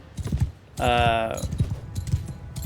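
Horse hooves clatter in a quick rhythm during a cavalry charge in the Mount and Blade II Bannerlord video game, with a short tonal call in the middle, while someone talks over the action.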